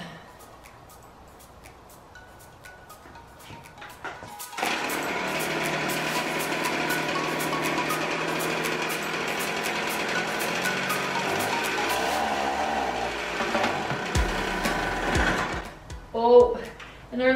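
A small gasoline power tool engine starts after a few pulls and runs with a steady buzzing drone, then sputters and dies as its tank empties; someone speaks briefly near the end.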